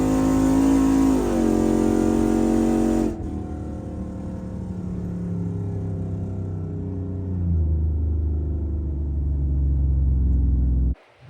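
A loud modified street truck engine roars and revs down a drag strip on a startup tune, shifts down to a lower drone, builds again, hits the limiter, then cuts off abruptly.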